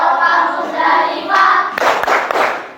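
A group of children claps along to the rhythmic Hajj clapping routine, a quick patterned run of palm slaps in a classroom, bright and close, with a sharper burst toward the end.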